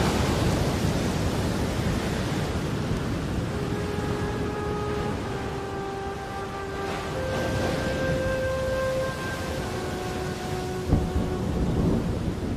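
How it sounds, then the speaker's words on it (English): A tropical cyclone at sea off Christmas Island brings heavy, continuous rain and rumbling thunder, a dense roar throughout with a few faint tonal whistles of wind in the middle, no voices. "Christmas Island has caught the edge of a full-blown tropical cyclone."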